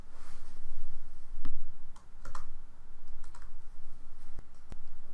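Typing on a computer keyboard while editing a note in an Excel spreadsheet: a steady run of light clicky keystrokes with a few sharper key taps, close and alone, no talk.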